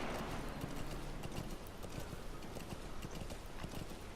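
Horse hooves clip-clopping in the video game Metal Gear Solid 5, a steady fast rhythm of hoof strikes over a dense background din.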